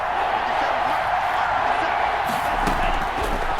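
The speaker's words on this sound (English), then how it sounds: "the crowd getting into it as we come up on a big third down" Stadium crowd in the Madden NFL 21 football game, a steady loud roar of cheering fans building before a big third down, continuous and broad with a few sharper thumps near the end.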